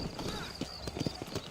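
Horse hooves clip-clop at a walking pace in the video game Red Dead Redemption, a brief run of moderately loud hoofbeats.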